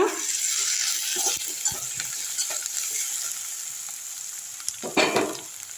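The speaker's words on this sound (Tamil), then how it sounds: "நல்லா வதக்கி விட்டுருங்க" Oyster mushroom gravy, cooked mutton-style, sautés in a pan with a steady bright sizzle and hiss, broken by several scraping stirs and a louder clatter near the end. The pan is close and no one speaks.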